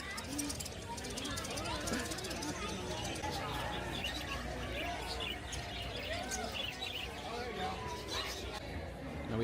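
Bird calls and chirps from a pet bird at a busy indoor political fair booth, heard over loud crowd babble and nearby conversation throughout.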